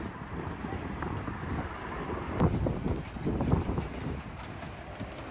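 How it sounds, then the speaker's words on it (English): Strong wind gusts of about 41 mph buffet the microphone outdoors in Tokyo, a steady low rumbling roar with louder surges midway, continuous throughout. "It is got 41 mile an hour wind gust."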